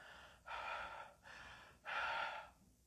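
A voice imitates panting breath, three drawn-out breathy gasps in a slow rhythm, quiet and close with short pauses between them.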